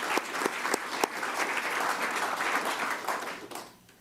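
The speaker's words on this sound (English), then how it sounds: "So let's give our coaches a round of applause for a job well done as well." Audience at a public school board of education meeting applauding the school coaches, a dense steady patter of clapping from a roomful of people with a few sharper claps standing out, fading off near the end.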